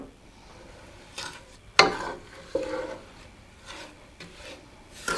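Cake batter with pecans and coconut is stirred by hand in a bowl for a fruit cocktail cake, giving intermittent scraping and rubbing strokes, one sharp scrape standing out, close and fairly quiet.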